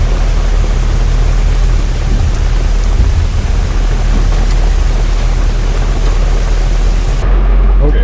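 Heavy rain pours in a dense, loud, continuous roar during a thunderstorm, with deep low rumbling underneath and no voices, ending abruptly near the close.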